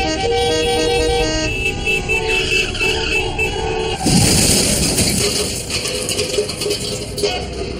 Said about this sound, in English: Horns make a pattern of sounds that we use to alert other drivers.